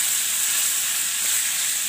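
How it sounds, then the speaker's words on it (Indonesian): Wild dove meat fries in hot oil inside a pan, a steady bright sizzle with an even hiss that holds without a break, close and fairly loud, nothing else over it. "Hari ini kalian lihat gorengnya aja ya"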